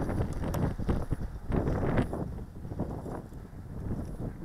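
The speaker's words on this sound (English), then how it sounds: "It's probably a gusting from 15 to 20 km/h winds" Gusting wind outdoors at around 15 to 20 km/h buffets the microphone during a tricopter flight, a steady, loud, rough rumble that swells and eases without pause.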